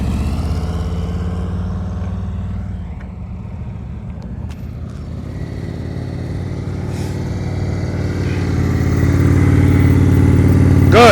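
Motorcycle engine running at low speed through an advanced slow-speed U-turn practice drill in Ohio, a steady mid-pitched hum that swells gradually toward the end as the throttle opens, heard close and continuous.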